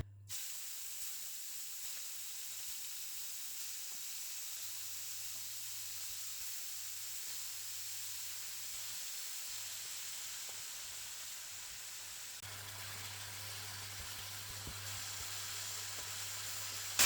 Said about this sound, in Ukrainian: ми будемо обсмажувати його на невеликій кількості оливкової олії